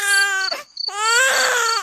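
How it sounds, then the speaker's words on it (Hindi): A baby cries in a loud, close wail, two drawn-out sobbing cries split by a brief gasping pause. "अरे ये किसके बच्चे की रोने की आवाज है?"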